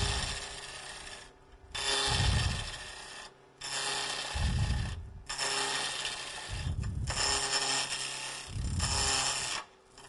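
A side-ground gouge cuts into a spinning wood cylinder on a lathe with the bevel pointed straight in, giving a scraping, rasping hiss in four repeated strokes with brief pauses between, all over a steady low machine hum.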